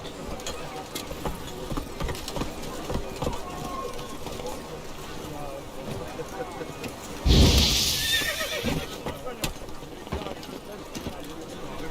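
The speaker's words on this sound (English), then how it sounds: "Whoa there, Roach." The horse Roach neighs in The Witcher 3 game, a short loud whinny bursting out around the middle over hoofbeats and game sounds, with someone talking through it.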